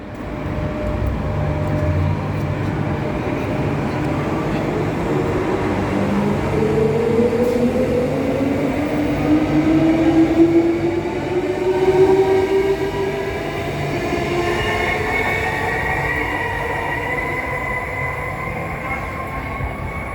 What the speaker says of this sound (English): Set 1, departing the new Midland Station.